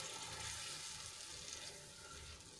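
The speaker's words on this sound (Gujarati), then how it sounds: "અહીંયા હું બીજું 1 ગ્લાસ જેટલું પાણી એડ કરું છું" Water poured from a glass into gravy in a cooking pot, a steady liquid rush that gradually softens over a few seconds, heard on its own.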